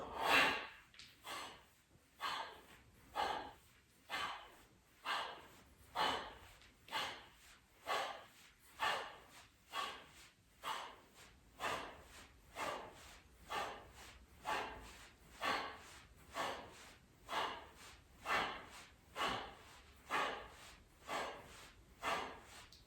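Rapid yoga breathing exercise, a long run of quick, forceful nasal inhales and exhales repeating in an even rhythm about once per second, close and alone with no talk.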